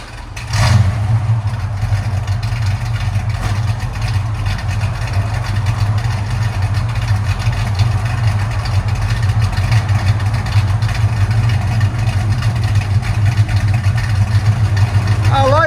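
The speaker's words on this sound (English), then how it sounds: "It sounds a lot cleaner with the H-pipe." A 1971 Ford Mustang Mach 1 with a 351 V8, custom H-pipe, Hooker mufflers and 2.5-inch tailpipes idles steadily and loudly with a deep, even burble, while people talk faintly nearby.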